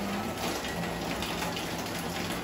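Steady, dense rain falling during a drive home, a continuous hiss and patter filling the whole moment with no voices.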